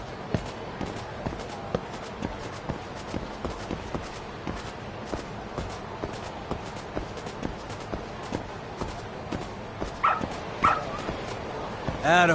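Dog in the video game Lost Judgment whining and yipping faintly amid repeated clicking taps and game sounds, with a few brighter whimpers near the end.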